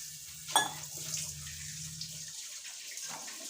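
Water splashes into a pan of sizzling fish curry gravy with a sudden burst, then a soft, steady hiss of simmering follows as a low background hum drops away partway through.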